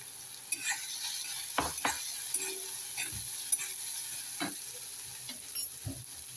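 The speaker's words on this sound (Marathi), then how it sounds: "आता त्यामध्ये टाकूया क्रश केलेला वाटाणा" Crushed peas stirred into a sandwich filling of capsicum, tomato and coriander in a pan, with soft sizzling and scattered scraping clicks of a spoon against the metal.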